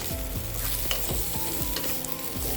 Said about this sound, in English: Fry the vegetables in medium heat. Cover and stir occasionally.